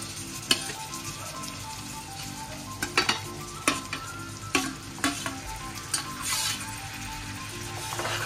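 Fish roe dropped into a hot pan for a fish egg masala, frying with a steady close sizzle, punctuated by several sharp clinks and scrapes of a spoon stirring against the pan.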